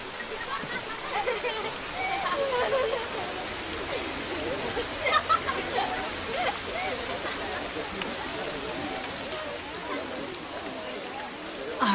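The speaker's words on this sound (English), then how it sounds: "Look at this rain." Steady rainfall hisses evenly, with scattered droplet patters and a faint watery wash, fairly soft and continuous without a break.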